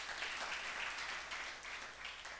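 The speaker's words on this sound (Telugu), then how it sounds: "నమ్మితే చప్పట్లు కొట్టండి." A congregation at a Sunday church service claps together, a faint, distant, continuous wash of many hands with no distinct individual claps standing out.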